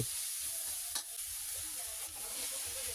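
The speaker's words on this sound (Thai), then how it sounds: "ใส่หมูหมักและผักต่างๆ ที่เราเตรียมไว้ตามลงไปได้เลย" Marinated pork and assorted vegetables are stir-fried in a wok with fried garlic and fermented soybean paste. A steady, loud sizzle runs throughout, with a couple of spatula scrapes and knocks and no talking.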